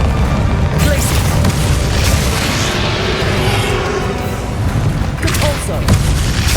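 Glacius ice spell cast amid a dense, continuous battle in Hogwarts Legacy, with loud booming impacts and bursts layered over heavy combat noise and sharp magical flourishes.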